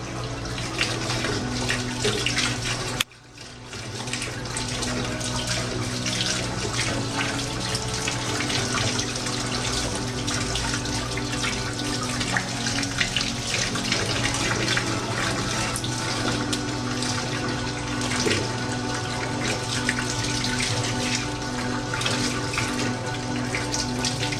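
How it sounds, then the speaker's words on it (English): Purified, mineralized alkaline water runs steadily from a tap while fresh wild ginseng is prepared, a continuous loud splashing flow with a brief dip early on before it resumes unbroken. "using highly alkaline water, purified alkaline water to do this, mineralized, very clean water."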